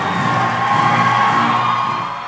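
A large crowd in a Flint high school cheers and whoops loudly as a president enters, a dense sustained roar of voices that tapers slightly at the end.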